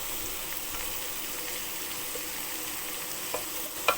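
Vegetables for minestrone soup frying in a pot while being stirred, a steady close sizzle with a couple of small scraping knocks near the end.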